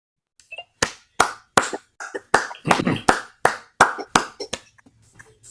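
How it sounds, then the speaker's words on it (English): A few hands clapping for Narendra Bhai at a live harmonium student performance event: about a dozen sharp, separate claps in an uneven rhythm, close and fairly loud, then tapering off. "I just want you all to give Narendra Bhai a big round of applause."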